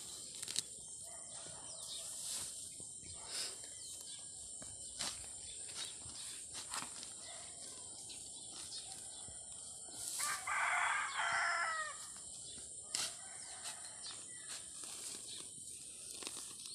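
Chickens cluck and scratch nearby against a high insect drone, and a rooster crows once, loud and close, partway through.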